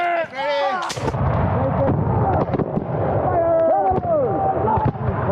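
Musket volley fired at a Battle of Camden American Revolution reenactment, a sharp broadband blast around the one-second mark with further scattered reports following, under shouted commands and crowd talk.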